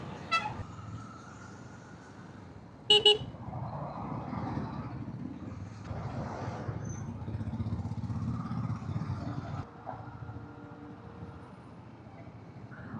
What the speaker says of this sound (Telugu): traffic terrific traffic